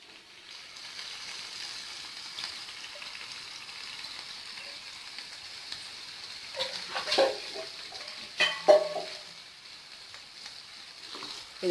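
Chicken frying in a pan of cooked-down masala: a faint, steady rain-like sizzle, broken by a few louder bursts of clatter and spitting as the pieces go in.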